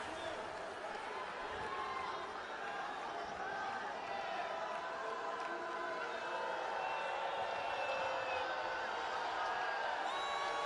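Arena crowd noise at a college basketball game between Detroit Mercy and Oakland, a steady dense roar with murmuring voices throughout, likely a jeer after a foul call, continuous and fairly loud.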